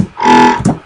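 Growl bass patch built in Native Instruments Massive with a wavetable oscillator pitched down 24 semitones, a single loud, buzzing, vowel-like synth note under a second long, ending in a short choppy tail.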